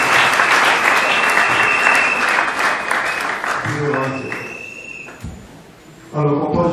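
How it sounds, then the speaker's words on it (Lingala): A wedding congregation applauds and acclaims with loud, sustained clapping and cheering, thinning out and fading midway as a voice speaks over the dwindling applause, then swelling again briefly. "Est-ce qu'on peut acclamer le Seigneur?"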